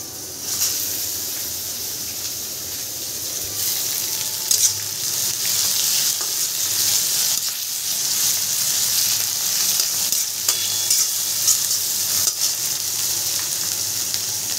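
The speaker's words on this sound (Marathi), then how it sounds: "तेलामध्ये फ्राय करून घेते आता चांगलं. टोमॅटो टाकते." Tomatoes frying in hot oil with mustard seeds and onion, a loud continuous sizzle and hiss heard up close, with occasional stirring scrapes and no voices over it.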